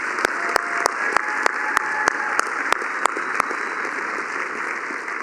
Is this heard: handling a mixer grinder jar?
no